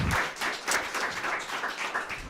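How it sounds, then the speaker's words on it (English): Brief round of applause from a convention audience at a live event, dense clapping with slight swells, fairly soft and steady for a couple of seconds. "Give him a huge round of applause,"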